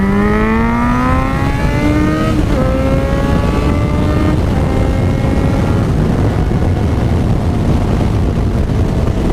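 Loud, close engine of a car accelerating on a plugged rear tire after a pressure loss, rising pitch through upshifts over the first few seconds before settling into a constant roaring drone with heavy road and wind noise.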